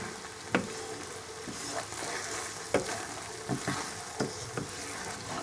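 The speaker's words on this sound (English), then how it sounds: "So we've got to stir this occasionally." Chicken tikka sizzles softly in a pan, and occasional spoon or spatula scrapes and clacks break into the steady frying hiss.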